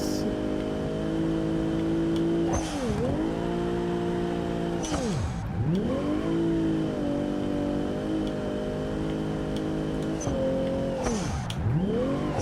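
A video game car engine holds a steady high drone, then dips and swoops back up in repeated revs as the car drifts, with brief tire squeals at each slide. No one talks.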